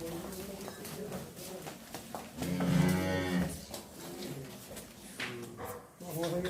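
Jersey cows at a cattle sale, with one loud drawn-out moo rising near the middle amid steady talk and background chatter.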